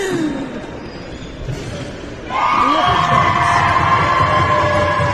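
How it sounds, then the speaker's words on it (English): A UK home crowd at a women's Switzerland v Great Britain team match starts with a busy murmur, then erupts at about two seconds into loud, sustained cheering, whooping and shouting that carries to the end. "you can hear the UK crowd going wild"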